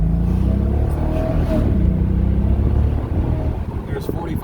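A 2013 Mercedes SL550 Bi-Turbo gently accelerating, a deep steady engine rumble with rising tone heard from inside the cabin while someone talks over it.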